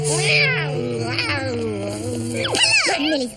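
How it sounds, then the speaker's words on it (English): A cartoon cat meows and yowls in a series of wavering, strained cries, loud and close, with a voice speaking around it in an animated show. "Hello, Millie's ugly cat."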